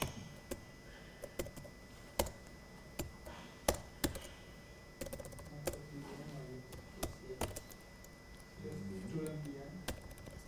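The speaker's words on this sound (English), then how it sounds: "my typing needs to improve" Computer keyboard typing during a live programming session: irregular bursts of sharp key clicks and taps, fairly close, with a man's speech running underneath and between the keystrokes.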